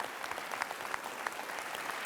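A studio audience at a talk show applauds, steady dense clapping throughout, fairly soft and even, with no voices.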